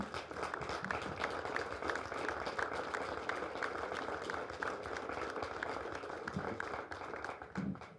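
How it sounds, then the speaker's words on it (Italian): Audience at an Italian civil protection exercise applauding, a steady, dense patter of many hands clapping that holds throughout without pause. "inviterei la popolazione che sta ascoltando a fare un applauso"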